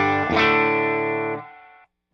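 One strummed electric guitar chord rings out through a Princeton amp routed by a Fryette ZMACS selector, lightly driven, then decays and cuts off after about a second and a half.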